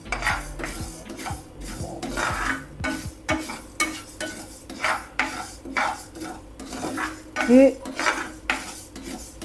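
Mustard, fennel, fenugreek and coriander seeds dry-roasting in a pan for a carrot and green chilli pickle, with a spoon scraping and clinking against the metal in irregular close strokes and no talk.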